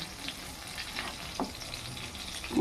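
Bottle gourd leaf fritters coated with sattu and shrimp fry in oil, making a soft, continuous sizzle with faint stirring crackles nearby.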